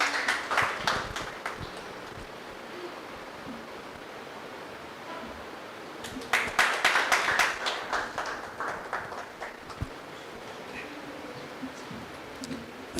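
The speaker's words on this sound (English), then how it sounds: "Please give a huge round of applause." A burst of applause from a crowd, fading out, then a second louder round of clapping that tapers off gradually.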